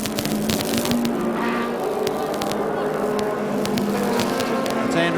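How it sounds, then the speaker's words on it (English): Pit-lane racket at a 1987 Bathurst 1000 pit stop: a steady, loud wash of engine drone and crowd noise, with sharp clattering bursts and hints of horns, sustained throughout with no clear gaps. "the noise that goes on in the pits during these stops"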